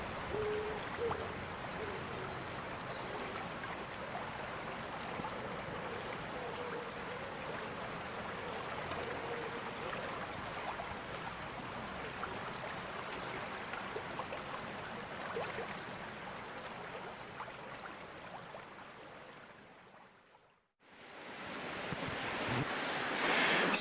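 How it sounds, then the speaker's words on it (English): The River Tay flows steadily on an overcast evening, a continuous broad wash of moving water heard up close from the bank, with a short dropout near the end. "here's the river"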